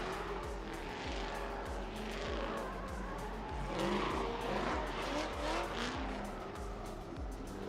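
Alex Anderson's Corvette drifts at the HOTPIT Autofest drift event at Orange Show Speedway, with a continuous roar of engines and drawn-out tire squeal and skidding from several cars, loud and sustained.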